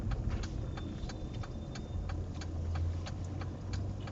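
A car's turn signal clicks steadily at a regular pace while the driver signals right at a light, with a low engine hum running underneath throughout.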